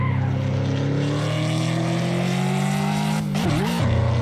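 High performance car engine in the Assetto Corsa racing game, a loud sustained droning roar with steadily rising pitch, then a quick rev dip and recovery near the end.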